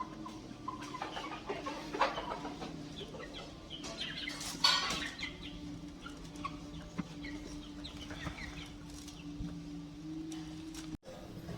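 Soft, low clucking from several chickens settling under a basket coop, scattered and fairly quiet, over a steady low hum.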